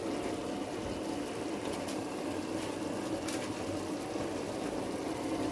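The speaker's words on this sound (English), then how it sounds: "And a little bit of water to cook it." A little water goes into a pot of geera neck cooking with cumin, giving a steady, even hiss of liquid and simmering that holds without pause.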